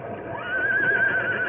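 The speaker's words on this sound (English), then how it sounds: "that whinny isn't coming from our horses, Stumpy." A horse whinnies in a long, high, wavering call outdoors near a creek, fairly clear and close, with faint hoof clops underneath.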